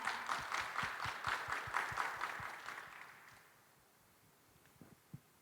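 An audience at a government innovation fair applauds to welcome a speaker onto the stage, with dense clapping for about three seconds that then fades away, leaving a few faint knocks and stray claps.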